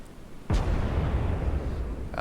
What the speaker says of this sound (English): the secondary battery is firing at the tanker